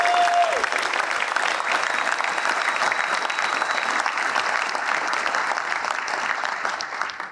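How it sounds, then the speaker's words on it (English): Audience applause at a US Army Corps of Engineers small business awards ceremony, steady, even clapping from a crowd held at a moderate level throughout, tapering slightly at the end. "Let's give him a round of applause."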